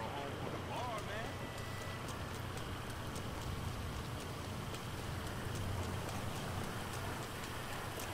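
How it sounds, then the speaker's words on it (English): Steady rain in Grand Theft Auto V Online patters and hisses continuously, with scattered drip-like ticks over a low rumble, unbroken throughout. "And now it's raining."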